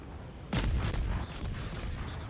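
A warship's main guns fire in World of Warships: one heavy, close boom sets off a booming rumble, and a few fainter shots follow in the echoing tail.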